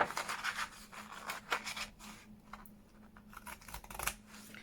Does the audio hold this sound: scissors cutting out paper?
yes